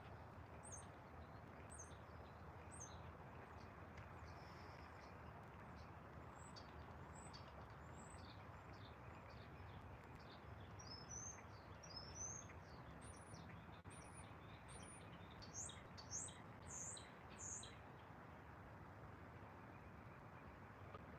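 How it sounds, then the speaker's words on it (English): Birds chirp and tweet outdoors by the Wisconsin River, many short distant calls scattered across a soft steady background hush, growing busier toward the end. "A lot of birds in the background today."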